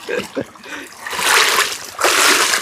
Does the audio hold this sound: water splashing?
yes